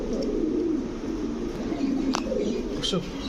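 Pigeons cooing at a bird seller's in Bangladesh, with racer and pouter breeds among them, low throaty coos repeating close by over a steady murmur of background noise.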